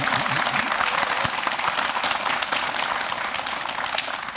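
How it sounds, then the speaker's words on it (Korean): Loud, continuous clapping from a town hall audience honoring public officials, a thick steady roar of hands with a faint voice briefly underneath near the start. "다시 한번 박수."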